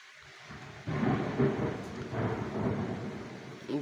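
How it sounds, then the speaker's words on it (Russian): Rain falls steadily while low thunder rumbles and rolls in long swells, swelling loudly after a quiet start and staying close and heavy to the end. "Дождик у нас такой шикарный, такой гром."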